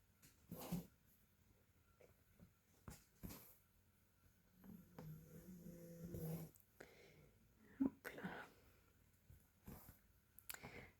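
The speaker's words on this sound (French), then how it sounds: "On va faire une vidéo ASMR ronflement de chien" Quiet, slow snoring and snuffling breaths from a sleeping dog, with occasional soft snorts and small rustles, close and faint.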